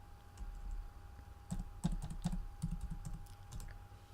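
Quiet clicks of a computer keyboard as a command is typed, with short irregular runs of keystrokes, a few close together and then a steady burst, over a low background hum.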